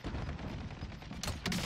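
Gunfire in Call of Duty Warzone crackles in a rapid burst of shots, with two sharper, louder reports near the end, heard faintly in the background.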